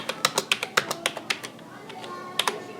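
A computer keyboard clatters as a CNIC number is typed, a quick run of about a dozen close, crisp key taps, then a pause and a couple more taps near the end.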